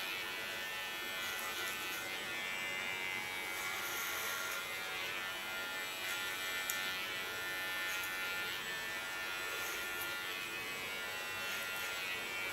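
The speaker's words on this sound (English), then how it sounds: "set my clipper on the skin, soften the frame of this line" Electric hair clippers buzz steadily at close range, a constant high whine held for the whole stretch while cutting a short undercut line, with no talking.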